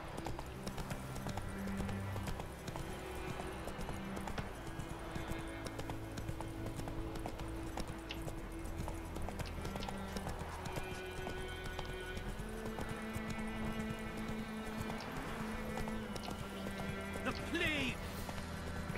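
Rhythmic clip-clop of galloping hooves in The Witcher 3 runs steadily throughout, layered over game music and ambient sound, with a brief horse whinny near the end.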